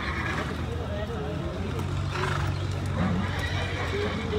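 A 23-month-old farm horse neighs and whinnies close by in an outdoor setting, with hooves clip-clopping, a vehicle rumbling faintly in the background and people talking now and then.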